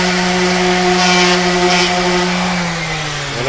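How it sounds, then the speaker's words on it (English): Power sander running steadily on wood, a loud continuous motor whine with a strong tonal hum that drops slightly in pitch near the end. "letting the sander do the work."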